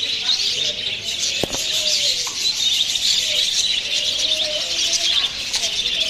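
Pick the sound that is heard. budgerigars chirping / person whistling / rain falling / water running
budgerigars chirping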